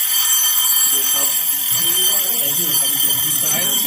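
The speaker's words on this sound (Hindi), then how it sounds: "पहले जमाने में इसी तरह का अलार्म होता था।" An old-fashioned alarm clock rings continuously in a steady, loud, high metallic trill throughout, while someone talks beneath it.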